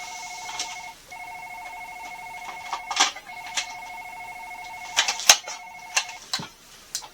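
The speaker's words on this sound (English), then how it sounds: "Answer your phone!" A telephone rings with a steady electronic warble that cuts in and out over several seconds, nearby and loud, with sharp clicks and knocks around it and no talk.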